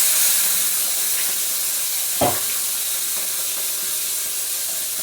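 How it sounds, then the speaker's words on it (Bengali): Salted hilsa fish pieces sizzle in hot oil with a steady, close hiss throughout, broken by one brief clink partway through. "এখন এই যে নোনা ইলিশের পিসগুলি কেটে রেখেছি, আগে এইগুলো একটু ভেজে তুলে নেব।"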